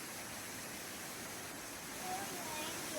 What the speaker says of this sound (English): And just around that corner there's a second waterfall